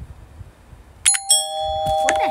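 In the Roblox game Berry Ave, a doorbell rings in a bright electronic chime of a couple of ringing tones that linger briefly after a quiet stretch.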